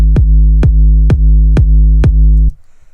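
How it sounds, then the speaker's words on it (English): Five heavy, booming electronic kick drum hits for a dance music drop, evenly spaced about half a second apart, each with a deep pitched-down tail, loud and isolated, ending in near silence. "That sounds like a nice fat kick."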